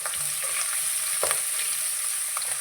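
Fresh curry leaves spitting in hot oil, a continuous close sizzle broken by light pops and a couple of utensil scrapes.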